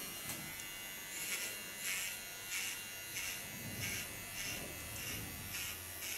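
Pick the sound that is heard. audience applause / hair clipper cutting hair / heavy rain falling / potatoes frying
hair clipper cutting hair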